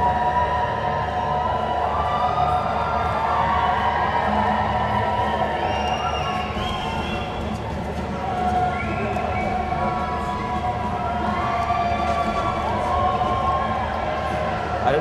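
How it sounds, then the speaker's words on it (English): Crowd cheering at a live speedrun event for Legend of Kay, a sustained roar of cheers and shouts behind a talking voice, with rising whistle-like tones. "I don't know if you can all hear the crowd behind me."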